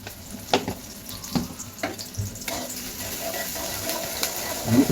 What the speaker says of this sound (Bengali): পেঁয়াজ কুচি গুলো, মরিচ কেটেছি, মরিচ গুলো দিয়ে দিব। দিয়ে লাড়াচাড়া করবো এখন।